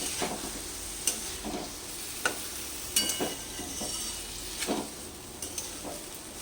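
Taro curry with mustard paste and a splash of water is stir-fried in a pan, a soft steady sizzle broken by repeated scraping stirs and light utensil knocks at an uneven rhythm.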